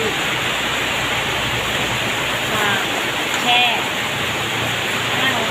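Steady hiss of running water, close and even throughout, as eggshells are washed clean to make salted eggs, with a few faint clinks over the flow.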